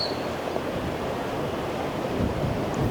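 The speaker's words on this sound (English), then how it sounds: "Little creek area down here." A small creek flows steadily in a broad, even rush of water, continuous and fairly close, with some wind noise and no talking.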